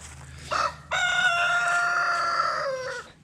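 A nearby rooster gives a short call, then a long, loud crow that trails off, with faint clucking underneath from backyard hens including Barred Rock and Jersey Giant chickens.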